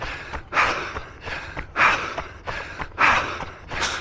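Heavy, rhythmic panting from a runner during a parkrun, with breaths puffing in and out roughly every half second, close and loud.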